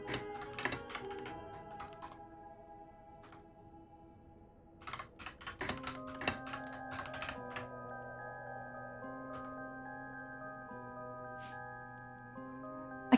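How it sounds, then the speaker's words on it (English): Computer keyboard typing in the visual novel PARANORMASIGHT: The Seven Mysteries of Honjo, steady bursts of key clicks over a sustained musical backdrop, fairly close and moderately loud, with no talking. "I'm typing back to Beth."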